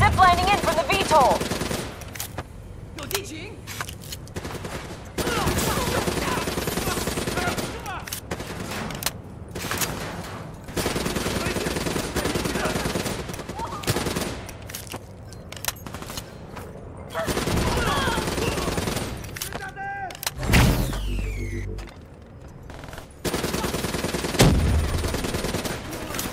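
Sustained bursts of automatic gunfire and single shots in Call of Duty Black Ops 3 on PC, loud and close, broken by short gaps and a low boom, with a voice talking over parts.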